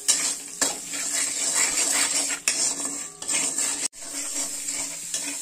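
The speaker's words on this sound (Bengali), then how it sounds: "এখন এর মধ্যে একটু মশলাটা কষিয়ে নেবো" A spatula scrapes and clatters repeatedly against a pan while spices with turmeric sizzle and fry underneath for an eggplant dish, close up, with a few sharp knocks.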